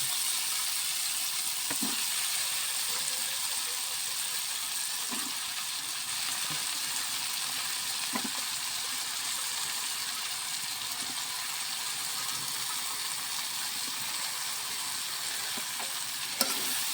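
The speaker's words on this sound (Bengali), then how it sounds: "এখন আমি বেগুনগুলা শুটকির মধ্যে দিয়ে দিব" Aubergines and dried fish (shutki) fry in a pan with an oily sizzle, a steady hiss running throughout with occasional soft scrapes and knocks of a spoon, close and continuous with no voices.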